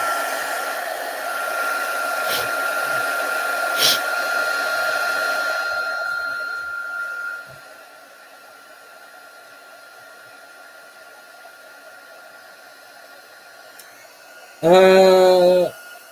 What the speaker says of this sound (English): I'm going to use the hairdryer to dry it a bit